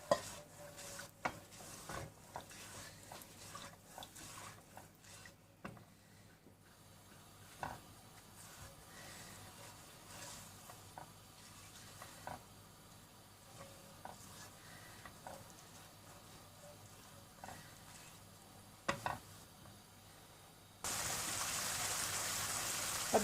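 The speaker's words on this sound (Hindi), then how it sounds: "इसको कंटिन्यूसली आपने साथ साथ इसको चम्मच से हिलाते रहना है" A spoon stirs a mix of 200 g sugar and 100 ml water coming to a boil for kaju katli syrup, giving quiet, intermittent scrapes and clinks against the pot over a low bubbling simmer, followed by a final burst of louder hiss.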